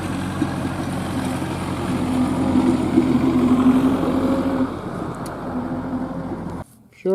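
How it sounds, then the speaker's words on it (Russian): A tractor drives through a village, its low engine rumble rising and swelling over several seconds before fading, and the sound cuts off abruptly near the end. "По деревне едет трактор."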